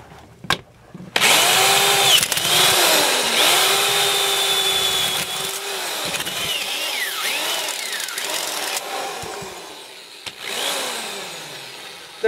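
A power drill runs loudly and continuously for about nine seconds, its whine dipping and rising as it bites, then winds down and stops.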